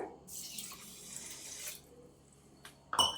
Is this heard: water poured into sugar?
yes